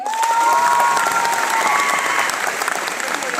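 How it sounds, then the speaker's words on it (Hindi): Loud applause from a crowd of women at a Vestige gathering in Assam, with some cheering; close, steady clapping that carries on without a break and eases slightly toward the end. "आप लोग अपने लिए जोरदार ताली बजाइए"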